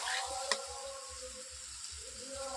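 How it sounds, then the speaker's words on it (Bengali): Boiled jackfruit sizzles softly in a pan of spices while being stirred for a jackfruit curry, a faint steady frying hiss with an occasional scrape or tap of the spoon. "এঁচড় দেওয়ার পর এইভাবে আমি মশলার উপর এইভাবে কষিয়ে কষিয়ে নিচ্ছি।"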